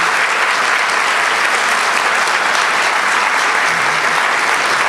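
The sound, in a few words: loud applause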